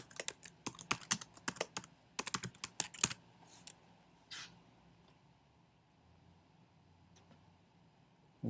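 Quick bursts of typing on a computer keyboard, close and crisp clacks in uneven runs for about three seconds, then a few scattered keystrokes fading into a quiet room.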